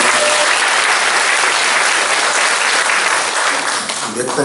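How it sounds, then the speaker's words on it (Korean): A church congregation claps to welcome a teacher during a worship service, a loud, continuous burst of applause that holds steady and then tapers off at the end. "잠깐 자리에서 박수로 환영하겠습니다"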